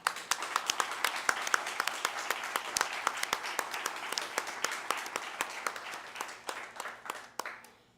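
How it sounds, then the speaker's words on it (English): An audience at a United Way community campaign kick-off applauds the local service providers, a dense run of crowd clapping with sharp individual claps standing out, thinning toward the end. "I would just love to take a moment to give a round of applause to all of our service providers that are joining us here today"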